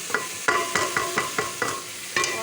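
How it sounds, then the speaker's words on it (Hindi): Spiced masala for a white chickpea dish being stirred and roasted in a pan, with about eight crisp spoon scrapes landing in an uneven rhythm over a soft, steady sizzle, close and fairly loud. "और हम इसकी अच्छी सी भुनाई करेंगे।"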